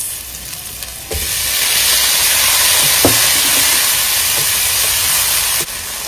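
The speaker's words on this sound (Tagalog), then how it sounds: "dito na rin ako magigisa. Lagay ko yung bawang sibuyas sa na. Kamatis." Garlic, onion and tomato sauté in a pan, giving a loud, steady sizzle and hiss that jumps up about a second in and runs unbroken, with a few light clinks of a utensil, then drops back near the end.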